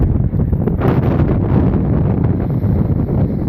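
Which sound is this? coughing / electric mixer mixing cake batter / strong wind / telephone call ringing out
strong wind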